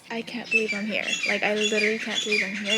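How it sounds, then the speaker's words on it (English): Outdoors on Hawaii's Big Island, birds chirp and squawk in the background, faint bright calls partly masked by someone speaking close by. "Do you guys hear the birds chirping in the background?"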